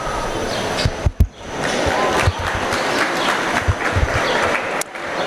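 Audience applause fills a swine show arena after a crossbred market barrow class, a steady dense patter of clapping with a few sharper thumps from the ring.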